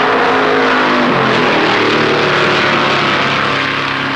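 Stock cars at the 1964 Darlington Southern 500, including Dodge and Mercury entries, roaring off the start: a dense, loud engine din that swells and holds steady without a break, with no voices.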